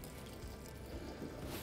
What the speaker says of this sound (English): you empty the flush liquid until it stops running